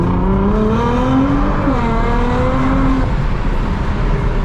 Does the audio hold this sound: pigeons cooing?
no